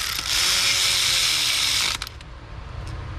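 A ratchet wrench clicks steadily for about two seconds while backing out an A/C line bolt on a Subaru Forester, then stops, leaving faint shop ambience.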